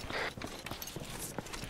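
Donkey hooves clip-clop in the video game ArmA 3: a quick, steady run of close hoof knocks with no talking.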